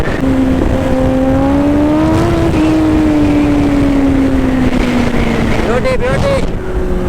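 Vehicle engine in the Nomadic Engine video game revving in first gear with popping, loud and steady, its tone rising and falling, under continuous talk from a speaker.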